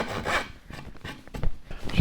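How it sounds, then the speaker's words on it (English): Handsaw cutting wood for a bandsaw L-fence jig, close rasping back-and-forth strokes in an uneven rhythm over two seconds, gritty and moderately loud with no speech. "So I'm gonna cut each side down just a bit with the handsaw."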